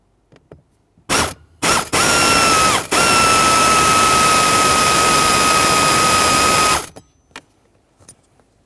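A power drill or impact driver whirs loudly and steadily for about five seconds, after a couple of short starts, removing the mounting bolts on the HVAC blend door actuator bracket of a 2003-2007 Honda Accord.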